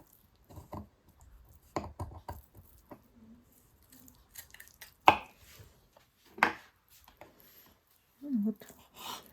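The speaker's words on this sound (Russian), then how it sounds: "А теперь будем резать мясо. Отделяем от костей." A knife cuts meat off the bones for a village-style shchi cabbage soup, heard as scattered sharp chopping and scraping knocks on a board with quiet gaps between them and a short bit of talk.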